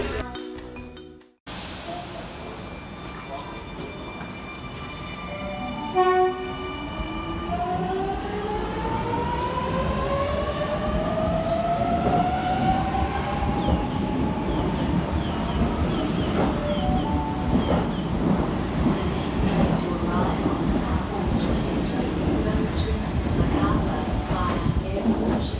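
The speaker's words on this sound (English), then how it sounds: "if you don't know the sound of an M set and you want to listen to it, here, have a listen" An M set electric train pulls away on rails, its motors whining upward in rising tones while a loud, steady rumble of wheels builds and continues.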